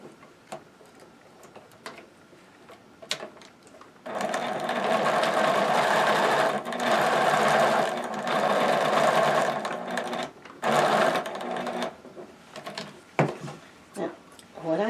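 A sewing machine runs in long steady bursts while stitching around a stocking, loud and close with short pauses between runs and faint ticking mechanism sounds at the start and end.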